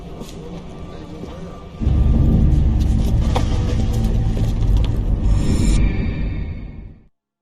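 Bus engine in L.A. Noire, a Camp Elliott bus pulling away: a loud rumbling motor swells in abruptly, holds steady with a whooshing drive-by character, then fades out to silence.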